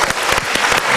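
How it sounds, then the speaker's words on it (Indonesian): An audience bursts into applause, with a dense, loud patter of many hands clapping at close range for about a second and no speech over it. "Kita berikan tepuk tangan."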